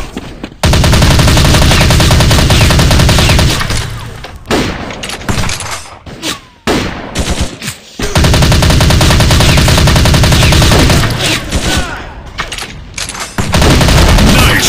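Dense automatic gunfire from the Gun War Android shooter game, loud and continuous in long sustained bursts with short gaps of scattered single shots between them, up close throughout.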